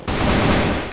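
Automatic gunfire from CrossFire: Legends, a mobile video game, comes as a loud, dense, continuous burst of rapid shots lasting just under a second, with no talk over it.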